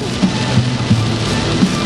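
Steady rain falls as a dense, even hiss with faint intermittent drips or taps, loud and continuous throughout, with no talk.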